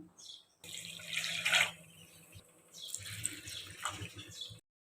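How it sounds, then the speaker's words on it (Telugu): Water from a glass is poured onto jaggery, giving a splashing, trickling pour that comes in two bursts with a short break between them. It sounds close and moderately loud. "దీనికి మనం ఒక 1 గ్లాస్ ఆఫ్ వాటర్ అనేది యాడ్ చేయాలి"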